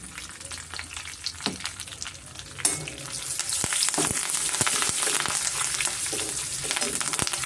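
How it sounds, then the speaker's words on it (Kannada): Curry leaves and asafoetida sizzle in hot oil for a tempering, a steady bright crackle that grows fuller partway through, with occasional stirring clicks and no talking. "ಸ್ವಲ್ಪ ಕರಿಬೇವು ಒಂದು ಮುಷ್ಟಿ ತೊಗೊಂಡಿದ್ದೀನಿ ನಾನು. ಸ್ವಲ್ಪ ನಾನು ಹಿಂಗು ಸೇರಿಸ್ಕೊತಾ ಇದ್ದೀನಿ."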